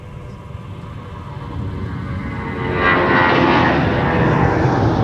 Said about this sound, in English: next up for departure, we got United going off to Chicago O'Hare